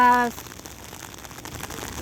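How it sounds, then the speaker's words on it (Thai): Steady rain falling all day, a constant soft patter and hiss of drops on surfaces after a brief voice at the start. "วันนี้ฝนตกทั้งวัน"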